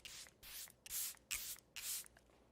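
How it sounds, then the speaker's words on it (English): Airbrush makeup setting spray hisses in five short, close bursts with brief gaps between them, quiet and alone with no voices. "Hold your breath. I'm going to do a quick spray."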